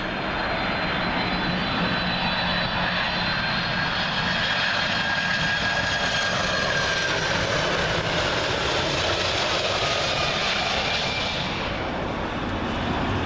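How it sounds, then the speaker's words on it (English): A Delta Boeing 767 in BCRF livery landing at Heathrow on runway 27L, a continuous, loud jet roar with a whining engine tone passing close overhead for the whole stretch, with no speech. "Next up, Delta Airways 767 in the BCRF livery, coming in from New York City, JFK"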